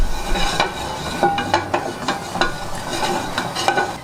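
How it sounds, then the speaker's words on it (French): A cream and veal stock pepper sauce is stirred in a pan, giving soft scraping strokes and light clinks of utensil on metal over a low simmering sizzle, close and steady with no talk. "On mélange."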